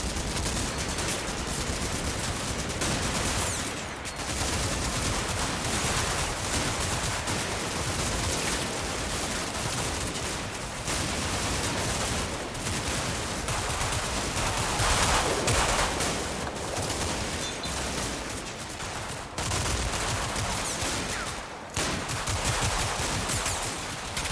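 Machine gun fire in the Combat Mission war video game, heard as a dense, unbroken clatter of automatic bursts and overlapping shots that stays loud the whole way through, with only a few brief dips and no voices.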